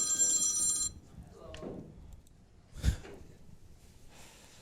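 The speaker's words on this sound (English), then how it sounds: "Some jerk doesn't have their phone off." A mobile phone rings with a bright repeating electronic tone for about a second at an American 14.1 pool match, followed by quiet hall ambience, a faint shuffle and a soft thump.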